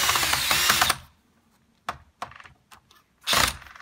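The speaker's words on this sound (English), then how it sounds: "So that's why I'm using the drill." A power drill runs close and loud for about a second while drilling new holes in a door for a smart lock. Scattered clicks and taps follow, then another short whir of the drill.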